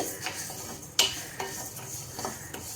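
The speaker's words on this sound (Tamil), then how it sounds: "கடாயில் எழுபத்தஞ்சி கிராம் கொள்ளு எடுத்திருக்கேன் அதை வறுத்துக்கலாம்" Horse gram dry-roasting in a kadai, a spoon scraping and clinking against the metal pan with one sharp tap amid faint rattling of seeds, close and fairly quiet.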